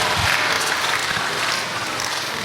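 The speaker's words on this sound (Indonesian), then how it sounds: "Beri tepuk tangan buat Mbak Mahesa ya." A studio audience applauds for a guest named Mahesa on an Indonesian religious advice talk show, with steady dense clapping filling the whole stretch at close range and no voices on top.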